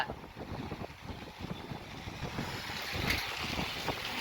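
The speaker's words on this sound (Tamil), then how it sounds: "ரொம்ப அழகா இருக்கு ஜிலு ஜிலுன்னு காத்து அடிக்குது" A cool wind blows steadily outdoors under a cloudy sky before rain, rumbling and buffeting the microphone with gusty, uneven noise.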